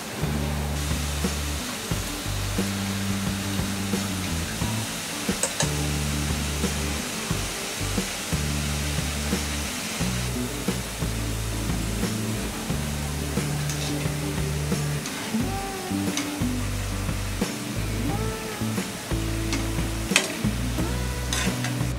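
Boondi batter drips through a grater into hot oil, making a continuous loud sizzling hiss with pulsing low rumbles and scattered clinks of the utensil, no talking.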